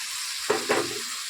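Bottle gourd dropped into a pan of hot, plentiful fish-frying oil gives a sudden loud sizzle that flares twice and then fades quickly, with no one speaking.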